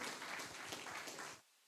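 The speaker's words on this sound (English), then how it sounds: "Give them a big round of applause." Audience applause at a community Wi-Fi launch event, a dense wash of clapping that holds steady for over a second and then cuts off abruptly.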